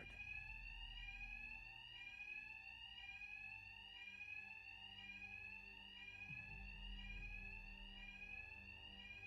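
An alarm rings in the video game Arkham Knight: repeated electronic tones at about one per second, held steady and loud throughout over a low background rumble.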